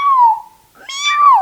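A person imitates a cat, letting out two drawn-out, wavering meows with a short gap between them, loud and close, with no other talk.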